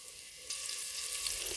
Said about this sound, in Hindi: यहाँ पे मैंने कटी प्याज डाली है और मैं इसे अब कैरामल ब्राउन करूँगी